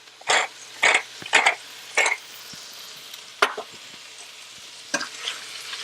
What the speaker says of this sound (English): This is going to saute down until the onions are sweated and just about translucent.